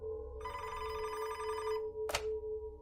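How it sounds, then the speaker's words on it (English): A desk telephone rings with a bright, clear electronic bell tone that sounds for over a second, pauses, then gives a short sharp burst. "Gerzib's phone rang at his desk, so he answered it"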